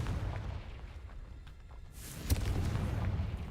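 Confringo, the explosive fire spell in Hogwarts Legacy, goes off as a sharp crack followed by a rolling, rumbling blast. Quieter crackle and distant booms come before it.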